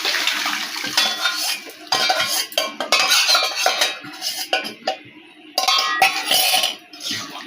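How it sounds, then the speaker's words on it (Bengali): A metal spoon clinks and scrapes against a pot while lentil dal is stirred into a bottle gourd curry, in irregular clattering bursts with brief pauses. "এইবারে দেবো লাউ ডালটা।"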